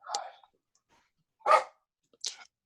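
A dog in the background of an online class participant lets out three short, separate barks spaced apart by silence, moderately loud and close to the microphone.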